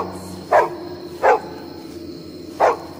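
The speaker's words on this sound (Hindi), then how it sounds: "जोर से भौंकने लगा।" A dog barks three times, sharp and fairly close, with the first two barks evenly spaced and a longer pause before the last, over a steady low hum.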